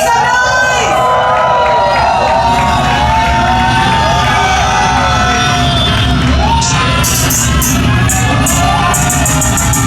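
A large crowd at a hip-hop listening session in Ahmedabad cheers, whoops and shouts loudly to welcome the artists Dhanji and Rasla, a dense continuous roar with rising yells, joined near the end by rhythmic clapping.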